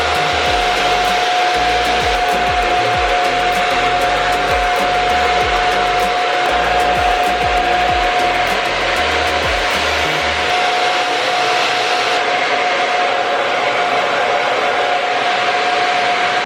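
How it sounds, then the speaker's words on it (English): A hair dryer fitted with a diffuser drones loud and steady right up close, a constant whooshing airflow with a thin whine running through it for the whole stretch. "let me get my diffuser and we will"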